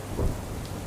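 Heavy rain pours down in a broad, steady wash of noise during a rainstorm in Gujarat, with a short low rumble near the start.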